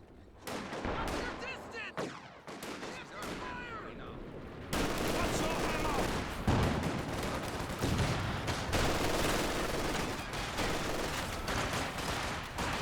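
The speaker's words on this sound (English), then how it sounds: "Great mortar hit there onto the Volksgrenadiers." Mortar impacts and gunfire from the Company of Heroes 2 strategy game, with Volksgrenadiers under fire: dense, continuous battle noise of overlapping shots and blasts, quieter at first and then a sustained loud barrage, with speech in the mix.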